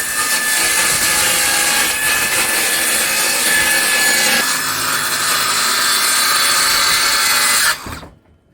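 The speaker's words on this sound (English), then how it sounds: "We're doing some cutting. We're trying to build these bunk beds" A power saw cuts plywood for building bunk beds, a loud continuous high whine with grinding texture that shifts tone midway, then stops abruptly at the end, close and alone without talk.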